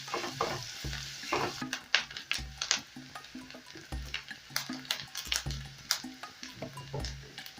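Onions and ginger sauté in a hot pan, sizzling steadily with repeated stirring scrapes and clinks of a utensil at close range, with no talking.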